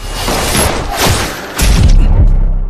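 Loud, dense booms and bursts of gunfire with heavy low thuds, a cinematic firefight without speech.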